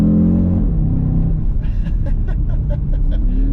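An Audi RS Q3 engine pulls hard uphill, a loud low rumble with the pitch dipping and rising as it accelerates close by.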